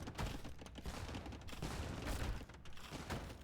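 Organ guns volleying in a real-time strategy game battle, a dense crackling fusillade of rapid overlapping shots with low booms, continuous and fairly loud throughout.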